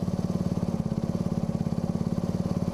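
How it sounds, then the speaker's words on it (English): An engine idles low with the choke on, a steady rapid, lumpy chug with even pulses throughout, close and fairly loud with no talking. "the choke's letting me running a lower idle. 500 RPM lower."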